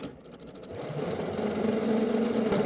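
A sewing machine stitches along the top edge of a shirt pocket with a steady mechanical whir that starts softly and rises to a constant, close running hum.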